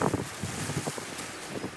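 Outdoor wind gusts and buffets the microphone beside a freshly rendered chimney, a steady broadband rush with soft rustling swells through the short stretch.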